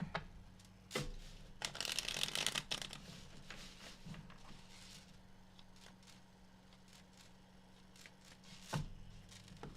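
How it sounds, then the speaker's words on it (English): Quiet, intermittent rustling and riffling of tarot cards being shuffled, with a brief burst of crisp flicking near the start and soft taps between. "Last shuffle."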